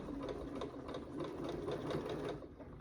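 A sewing machine stitches a quilt seam, a close, soft rapid whirring and needle clatter that runs steadily for a few seconds before easing off.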